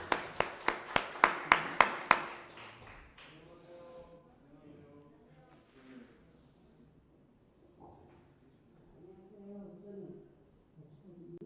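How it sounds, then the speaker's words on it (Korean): A congregation claps in unison in a church during a Sunday morning service, a run of about eight sharp, loud claps that stop after two seconds, followed by quieter speech. "박수하겠습니다."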